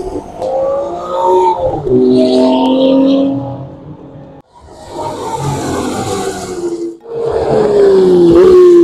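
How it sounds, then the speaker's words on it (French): A Ferrari 599 GTO roars loudly on track at a car club gathering, its engine pitch rising and falling through hard revs with brief gaps between pulls, close and powerful with no talking. "Et là, il y a une 599 GTO qui tourne."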